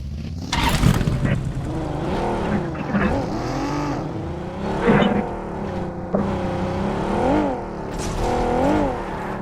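A vehicle drives through Erangle in the BGMI battle royale game, its engine droning loudly and close with rising and falling pitch as it revs and shifts. Brief sharper bursts break through, and there is little talk.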